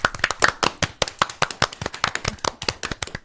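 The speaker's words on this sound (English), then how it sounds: "A round of applause" A few people clap in a light, rhythmic patter, close by and fairly quiet, with distinct individual claps rather than a full crowd roar.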